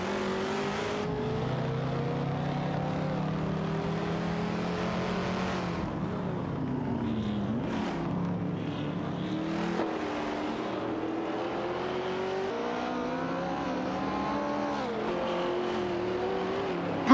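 A Porsche 908 and a Ferrari 330 P4 race wheel to wheel in a video game, their engines droning loudly and continuously with rising and falling pitch through gear changes and acceleration, no voices over them.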